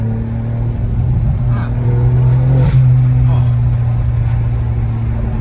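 A deep, steady exhaust drone with a short swell near the middle, heard from inside the car as people talk.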